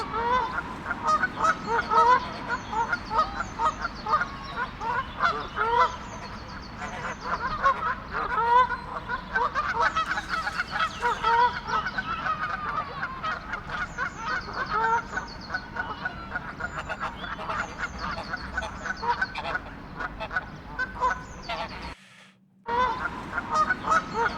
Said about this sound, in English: Let's go listen to our geese here.